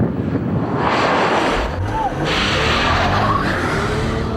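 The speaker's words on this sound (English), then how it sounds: "We got a lot of wheel spin there." A 2001 car with a GM inline six spins its wheels on a wet road, loud hissing tire slip and engine roar with a brief rising whine, heard up close.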